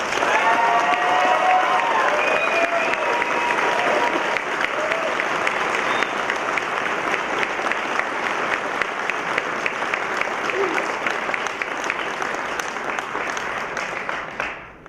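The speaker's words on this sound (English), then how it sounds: "Graduates, I think you should give a loud round of applause to your families and friends who've joined us here today" Graduates at a School of Engineering convocation give their families and friends a loud, sustained round of applause, dense clapping from a large crowd that fades out toward the end.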